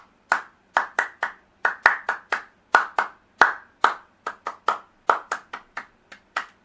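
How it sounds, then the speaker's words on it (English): A teacher claps hands in a quick rhythmic pattern of sharp, close, loud claps in an elementary school English classroom, with short pauses between the groups. "I just do the clappings like,"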